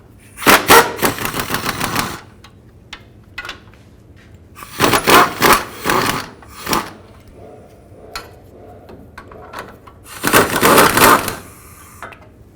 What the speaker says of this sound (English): Use a 15mm socket. Take these nuts off.